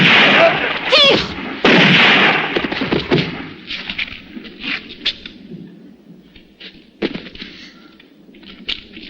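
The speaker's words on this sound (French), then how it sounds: "Tire!" Gunfire in a classic western film: a few loud, sharp reports ring out near the start, followed by scattered fainter shots and echoes, with a shouted voice among them.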